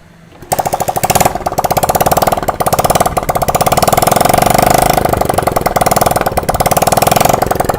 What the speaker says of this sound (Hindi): तो चलिए बाइक को स्टार्ट कीजिए, चाबी ऑन कीजिए।